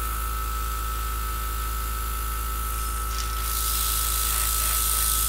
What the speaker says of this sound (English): I can airbrush to my heart's content